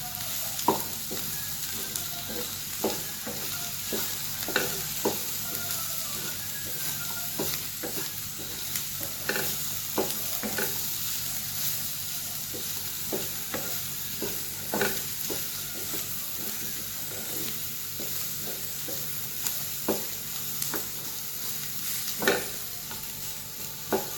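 Garlic and crushed dates frying in a pan for a pickle, stirred continuously: a steady sizzle with frequent scraping stir strokes and small clicks, close and even throughout.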